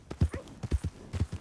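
Horse hooves clip-clop at an easy walking pace in Red Dead Redemption 2 in the town of Valentine, a short run of uneven, fairly quiet hoofbeats with no talk over them.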